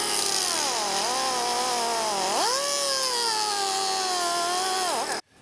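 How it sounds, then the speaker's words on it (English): A power tool whines steadily while cutting down a plastic motor housing on an actuator before it is screwed into wood, its pitch dipping and rising with the load for about five seconds before stopping abruptly. "I'm just going to cut down this plastic just a little bit so that I can get a good bite on the screw into the wood"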